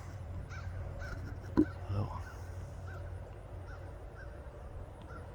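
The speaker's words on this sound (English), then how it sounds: "I'm wondering why these crows were starting to make some noise" Faint crow caws repeat at a distance over a low background rumble in a garden on a fall day, with a sharp knock partway through.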